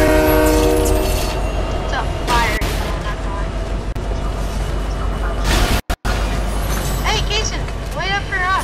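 A video game train rumbles in with a loud horn blast and rattling wagons, while voices chatter over the steady mechanical roar.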